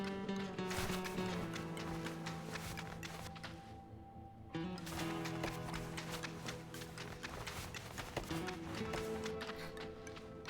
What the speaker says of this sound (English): Listen to footstep noises.